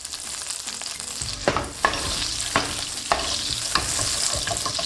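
Butter melts in a hot pan just cleared of onions, giving a steady close sizzle and fizz throughout, with a few sharp clinks of a utensil against the pan scattered across the stretch; no one speaks.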